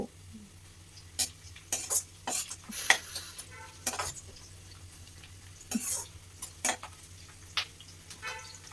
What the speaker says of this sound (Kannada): ಈರುಳ್ಳಿ ಎಲ್ಲ ಫ್ರೈ ಆದಮೇಲೆ ಅರಿಶಿನ ಪುಡಿನ ಈ ರೀತಿ ಆ್ಯಡ್ ಮಾಡ್ಕೋಬೇಕು